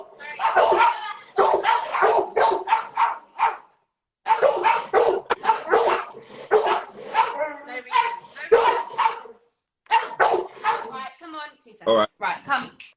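A dog barks in short, scattered bursts while people talk almost continuously over it indoors.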